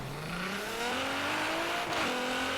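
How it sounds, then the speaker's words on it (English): A tuned Nissan GT-R launching from a standstill in Forza Horizon 3, its engine note climbing steadily in pitch as it accelerates hard, loud and close with no talk. "to launch the car, you're just gonna let go of the clutch and the e-brake"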